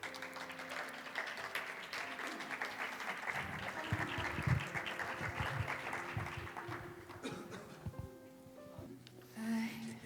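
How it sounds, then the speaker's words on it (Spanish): An audience applauds the cast of a radio drama production, steady clapping for several seconds that thins out near the end, with a few voices audible underneath. "un aplauso para ellos"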